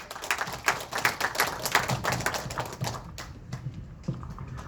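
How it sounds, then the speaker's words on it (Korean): Audience applause at a neighbourhood redevelopment briefing, a burst of close, dense clapping that thins out into scattered claps and fades after about three seconds. "격려의 박수 한번 부탁드리겠습니다."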